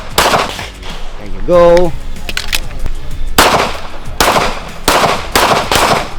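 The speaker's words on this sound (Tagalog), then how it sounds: "I really like firing this gun." A 9mm Smith & Wesson M&P Shield polymer striker-fired pistol fired at a range, several loud, sharp cracks in an uneven series of single shots, with a voice speaking briefly between them.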